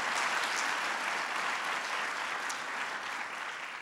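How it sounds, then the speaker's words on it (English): A large audience applauds at a political event honoring the Secretary of Commerce and Secretary of State, a steady, dense wash of clapping that holds evenly throughout without voices. "So please give them a big round of applause."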